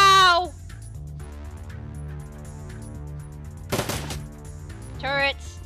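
Turrets in the game Shadowrun Dragonfall let off a short burst of rapid gunfire midway, over a low game music loop, with brief squawking effects at the start and end.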